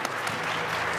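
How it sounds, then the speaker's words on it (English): Steady applause from a convention audience at a live tabletop game show, dense and continuous for about a second. "Give a round of applause for our adventurers."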